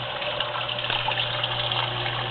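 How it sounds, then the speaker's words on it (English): Steady rushing, splashing water from an aquarium sump hitting the side of a filter sock, with a constant low pump hum underneath, continuous and close, no voices. "the water coming off hits the side of the sock"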